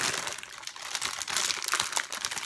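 Crinkling, crackling plastic bag being torn open by a thumb, close and continuous with sharp crunchy bursts, no talk.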